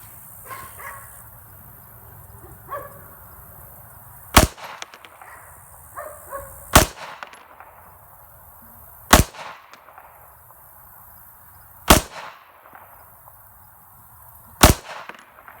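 Five sharp 9mm pistol shots from a Kimber 1911 firing Hornady HAP 115-grain reloads crack out at slow, even intervals, loud and close, with a dog barking faintly between them.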